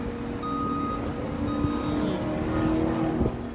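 A Mercedes-AMG GT R with 577 horsepower drives along, a steady low engine drone with faint tonal whines and road noise at moderate level, no talk.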